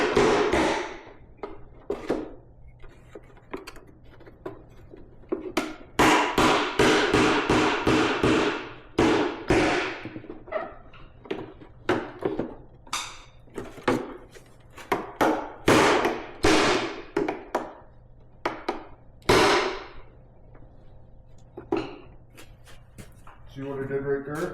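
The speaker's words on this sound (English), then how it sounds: "Couple f***ing swats of the old ball peen." Ball peen hammer striking the sheet metal of a square body truck's HVAC box, a series of sharp, close metallic taps and thuds in irregular bursts, with someone talking between and over the blows.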